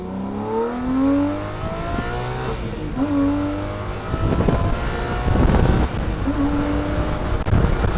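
A Lamborghini Murcielago Roadster's V12 engine revs while driving, rising through gears with climbing pitch sweeps and loud, rasping bursts, accompanied by wind rush.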